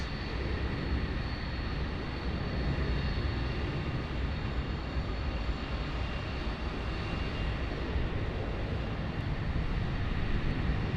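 An airliner departs runway 22 at Sydney Airport at night, a steady broad engine roar rumbling continuously at moderate distance without voices.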